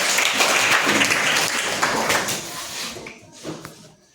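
Students in a school classroom clap together during a general-knowledge quiz. The dense applause holds steady at first, then thins out and fades, with a few last scattered claps.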